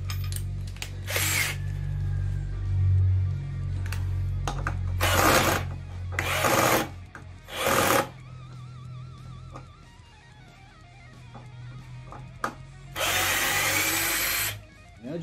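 A Tramontina cordless drill/driver unscrews a screw in several short whirring bursts separated by pauses, with a longer final run. It is close and loud, and nobody speaks.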